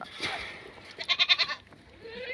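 Goats bleat in a series of four or five quick, loud calls at a goat farm in the Medina desert, rising out of faint outdoor background noise, with other quieter animal sounds before and after.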